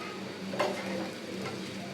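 Semai vermicelli frying with sugar in a pan for jorda semai, a soft, steady sizzle with a light scrape of stirring, faint and close.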